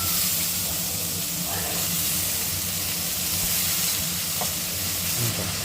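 Chopped onion and green chilli sizzle and fry steadily in a hot pan, a continuous loud hiss with occasional stirring scrapes, with faint talk in the background.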